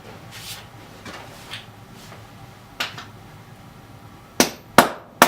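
Hammer blows drive a punch through a silver quarter to start a coin ring: after a quiet stretch of faint knocks, three sharp, loud metallic whacks land close together near the end.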